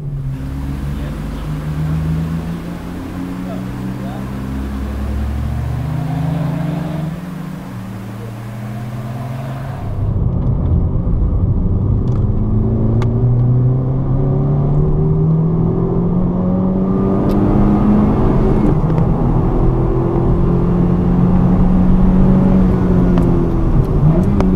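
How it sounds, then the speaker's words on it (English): A 2016 Honda Civic Type R FK2 on a race circuit at Mondello Park, heard from the cabin as a loud, steady engine drone that climbs and shifts pitch through repeated gear changes and acceleration, continuous throughout. "So now it's time for us to take this Type R FK2 out for a spin."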